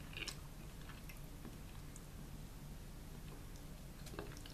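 Quiet, soft chewing of a chewy no-bake cookie, close and faint over steady background hiss, with small irregular bites and mouth sounds and no talking.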